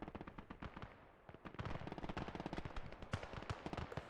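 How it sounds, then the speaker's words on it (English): MG42 machine gun fire in the World War II strategy game Gates of Hell: Ostfront, with rapid sustained bursts of close, crackling shots in a fast steady rhythm and a brief pause near the start. "the MG42 is actually taking out the vehicle crew on the M20"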